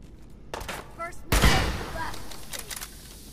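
Gunfire in Fallout 4 breaks out in a loud burst of several shots around the middle, with scattered game sounds and a few lighter pops afterward.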